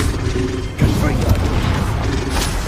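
A Confringo explosive spell from Hogwarts Legacy goes off in a sudden, close blast with rumbling debris and crackling impact after a brief mechanical whoosh, with a voice speaking over it.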